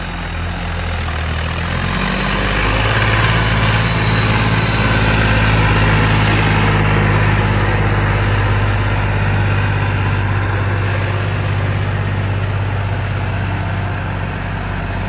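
A John Deere 5310 tractor's diesel engine runs loud and close, its revs climbing early and then holding a steady heavy drone while its load and RPM are checked.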